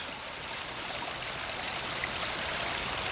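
Water rushes steadily through a pipe as it fills, a continuous close hiss and gurgle of flowing water with air being pushed back up, no speech.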